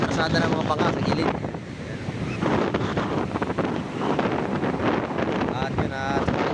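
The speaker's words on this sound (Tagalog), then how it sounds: "pati cellphone natin gumagalaw sa lakas ng hangin" Strong typhoon wind batters a phone microphone with constant loud roaring gusts at a seashore in Tanza, with surf surging beneath. A person talks over the wind throughout.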